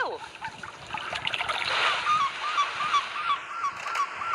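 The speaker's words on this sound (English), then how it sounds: "Look, there are beautiful swans swimming in the lake." Cartoon swans swimming on a lake honk repeatedly in a preschool learning game, a regular series of bright honks over soft splashing water, moderately loud, with no talk.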